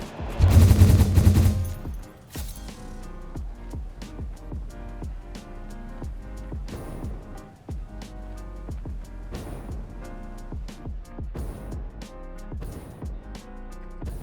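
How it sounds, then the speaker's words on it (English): Rapid repeated firing of a hyper cannon in the factory-building video game Satisfactory, with a loud burst at the start followed by a steady stream of punchy shots and mechanical clatter throughout. "Having that belt makes the hyper cannon so much more effective."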